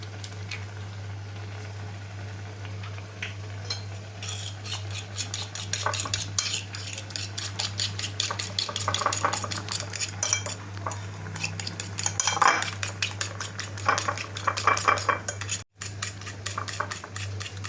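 Egg and banana being whisked together in a bowl for a ten-month-old baby's food, with a quick, steady run of utensil clinks and scrapes against the bowl over a constant low hum.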